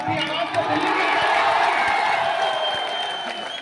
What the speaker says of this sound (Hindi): इतनी कमजोर ताली से काम नहीं चलेगा